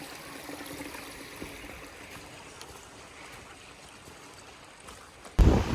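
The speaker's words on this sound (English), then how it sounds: "This river has been following the trail for probably about a mile or two, and I just came across a waterfall and it's spectacular." A river flowing along a hiking trail toward a waterfall, heard as a steady, soft rushing wash of water throughout, with a brief loud bump near the end.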